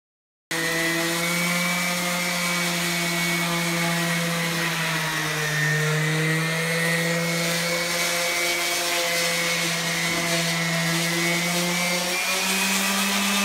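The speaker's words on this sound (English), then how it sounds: "Sanding the tenons to fit into the mortises" A power sander working the tenons of an aspen log bunkbed to fit their mortises, a loud continuous motor whine with a steady harmonic drone that wavers slightly in pitch as it bears on the wood.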